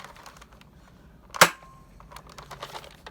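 A Nerf Elite Surgefire blaster fires a single foam dart with one sharp, close snap that stands out against quiet room sound and faint handling noises.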